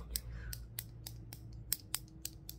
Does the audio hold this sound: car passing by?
no